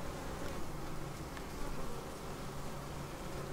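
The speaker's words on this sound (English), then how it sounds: "There's a lot of bees in here, but there's no queen" Dense, steady buzzing of many honey bees inside an open hive with no queen, a continuous droning hum that stays close and loud throughout with no voices.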